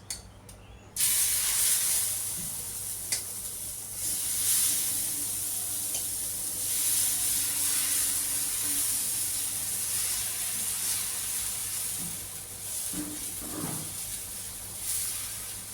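Salted mixed-dal dosa batter hits a preheated pan and breaks into a steady, fairly soft hissing sizzle that holds evenly after a sudden start.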